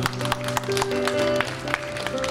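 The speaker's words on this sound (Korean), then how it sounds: "박수 부탁드립니다" Wedding guests applaud after the officiant declares the marriage, scattered clapping with sharp distinct claps over a background of sustained music tones.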